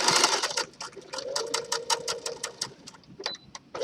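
A sewing machine stitches forward and backward along a gathered skirt, giving a quick train of close, evenly spaced mechanical clicks with a soft motor hum underneath and brief pauses where the direction changes.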